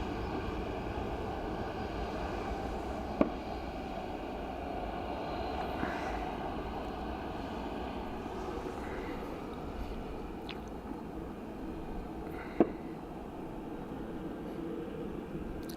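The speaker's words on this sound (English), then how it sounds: "Next up, Ryanair in from Seville." A Ryanair airliner arriving from Seville at Dublin Airport, a faint, distant, steady jet rumble under low cloud, with a couple of brief clicks.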